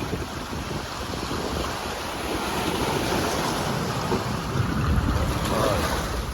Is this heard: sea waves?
yes